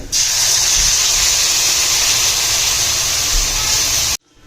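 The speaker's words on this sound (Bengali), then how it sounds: "সমস্ত কিছু ভাজা হয়ে গেলে দিয়ে দিতে হবে দইয়ের মিশ্রণটিকে" A yogurt mixture hits a hot pan for dahi bhindi (okra in yogurt), bursting into a loud, continuous hissing sizzle that holds steady for about four seconds and then cuts off abruptly.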